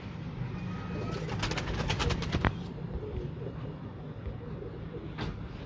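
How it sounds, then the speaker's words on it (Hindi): Pigeons coo softly in a loft, with low, rounded calls repeating under a steady background hum and a few brief higher chirps. "अच्छा, ये सबसे मुलायम कबूतर है।"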